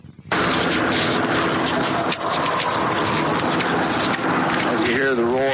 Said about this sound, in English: the cars in the background, the airplanes flying and helicopters flying overhead